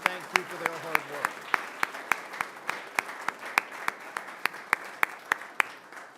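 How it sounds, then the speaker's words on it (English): A city council meeting audience applauds the forensics team with slow, sparse, evenly spaced claps, like a few people clapping in a large room, faint and distant, with a brief murmur of voices at the start. "could we give them a big round of applause and say thank you for their hard work?"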